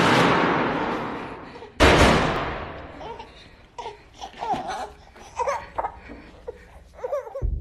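Gunshots in a film about a terrorist attack: a sharp, loud bang cuts through a dense noisy wash, followed by scattered clattering impacts and faint, muffled voices.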